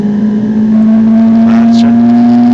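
Ferrari 458 Italia V8 at full throttle on the Monza circuit, a loud, steady high-revving engine drone heard from inside the car, holding its pitch under occasional faint background voices.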